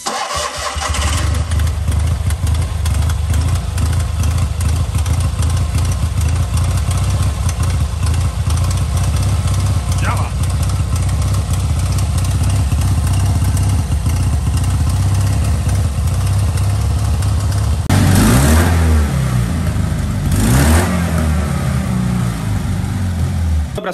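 A Fiat 126p engine converted to Honda CBR fuel injection runs steadily and close, a loud buzzing idle that lasts throughout and swells into a couple of brief revs near the end.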